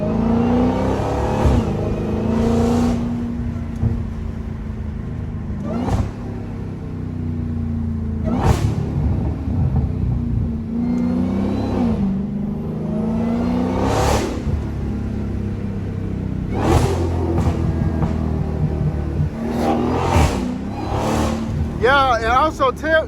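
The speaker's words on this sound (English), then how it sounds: "My car seemed a little louder for some reason." A Dodge Hellcat's engine drones steadily from inside the car while driving, with repeated sharp revving surges and bursts breaking through the continuous rumble.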